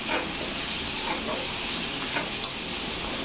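Carrots sizzling in a ginger, garlic and green chili paste in a hot pan, a steady close frying hiss with faint stirring scrapes throughout.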